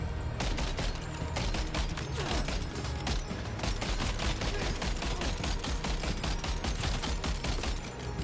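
Gunfire from a weapon in the video game Death Stranding 2 rattles out as rapid, continuous bursts of sharp shots. The shooting is loud and close and fills the whole stretch without letup.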